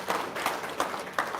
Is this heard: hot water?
no